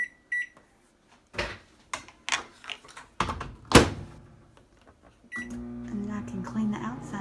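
A microwave oven is set and started: a few button beeps, then a series of thunks and a door shutting, followed by the steady hum of it running.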